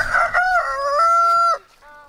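A homestead rooster crows once, loud and close, a drawn-out call that breaks off abruptly, followed by a fainter short trailing note.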